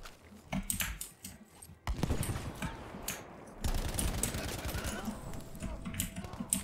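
In Battlefield V, rapid gunfire crackles like firecrackers in dense irregular bursts, sharp and loud, with brief pauses between volleys and busy battlefield noise around them.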